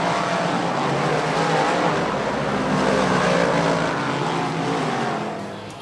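Race cars roar past at Lernerville Speedway in a sustained, loud engine drone that holds steady for several seconds and eases off toward the end, with no voices.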